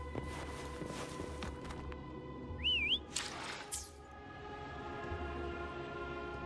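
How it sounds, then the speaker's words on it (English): A single short rising-and-falling whistle sounds over a constant electronic game hum with soft thuds and steps around it. "Try whistling."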